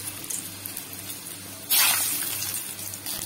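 Garlic drops into hot mustard oil and sizzles in a sudden loud burst that settles into a steady hiss, close up with no voices.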